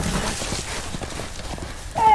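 Horse hooves clop steadily on ground in a Game of Thrones video game, a brief whinny-like tone rising near the end over game ambience.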